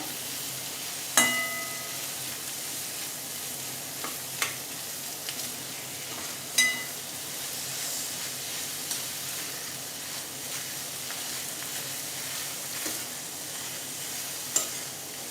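Paneer bhurji being stirred in a frying pan, with a soft, steady sizzle throughout and occasional sharp spatula scrapes and clinks against the pan, no voices.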